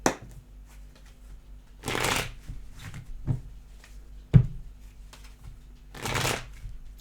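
A deck of tarot cards is riffled and shuffled up close in several quick bursts, with softer card handling and a single sharp tap between them, no voices.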